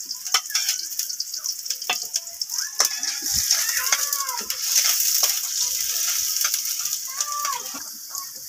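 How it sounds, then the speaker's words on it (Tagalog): Food sautéing in a hot pan, a steady bright sizzle running the whole time, close and loud, with scattered clinks and scrapes of stirring on top. "So guys, magigisa na tayo."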